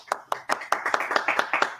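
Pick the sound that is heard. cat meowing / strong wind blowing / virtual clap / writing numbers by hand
virtual clap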